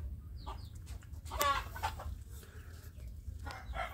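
Free-range village hen clucking while brooding a clutch of large eggs, a series of low, soft clucks and short murmured calls close by in a quiet setting.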